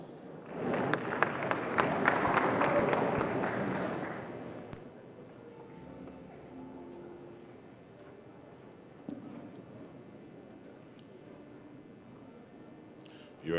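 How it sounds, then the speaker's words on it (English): Audience applause at the Alaghodaro 2021 event swells loudly for about four seconds, then gives way to quieter room noise with a few scattered claps. "A round of applause, ladies and gentlemen."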